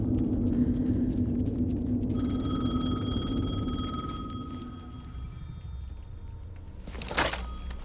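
A telephone rings in the video game Alan Wake 2, with a steady electronic ring tone sounding for a few seconds over a low, droning ambient rumble, then fading into a dark background with a brief swell near the end.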